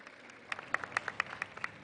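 Audience at a women's summit and expo giving a brief burst of scattered applause: sharp individual claps, moderately near, building quickly and then fading.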